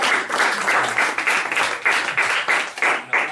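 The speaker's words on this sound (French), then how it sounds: "on peut l'applaudir aussi" Audience applause for an author at a book-related gathering, a dense, sustained clatter of many hands clapping close by that swells and dips slightly in waves throughout, with no talk over it.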